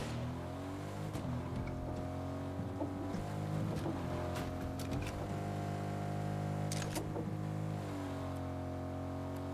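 A vehicle in Fortnite drives uphill, its engine droning steadily with pitch shifting up and down as it climbs, joined by a few short clicks and knocks and no voices.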